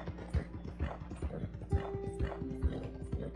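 Horse hooves clip-clop in a steady rhythmic gait in the Red Dead Redemption 2 video game, close and clear with sustained tonal game music underneath and no talk.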